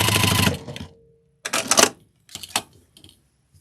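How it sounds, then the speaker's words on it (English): A sewing machine pieces quilt blocks in short bursts of rapid stitching, one longer run followed by several brief stop-start spurts, close and clear. "And I'm going to match them up at the sewing machine."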